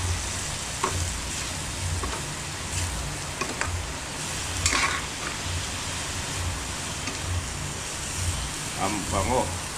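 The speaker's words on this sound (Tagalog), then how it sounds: "Haluin muna natin." Mung beans and bitter melon leaves with other vegetables sizzle steadily in a pan while being stirred, with scraping stirs breaking through the constant frying hiss at close range.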